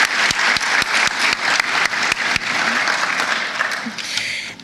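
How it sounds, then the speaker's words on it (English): An audience at a school awards ceremony applauds in a sustained burst of dense clapping, a few individual claps standing out near the front, loud and fading slightly at the end. "one more round of applause for our first round of elementary Shining Apples"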